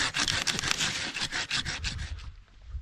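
A white pine branch is cut off out in the woods with a hand saw, giving a quick run of close, rasping wooden strokes that fades into quiet at the end.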